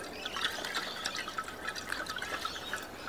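Water is swirled clockwise in a glass by hand, giving a soft, steady sloshing and trickling with small drips, close up and alone.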